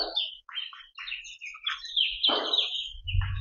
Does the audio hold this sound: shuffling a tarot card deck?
no